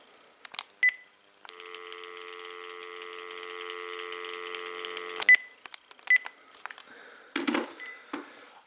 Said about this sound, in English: now let's check out the dial tone on the second handset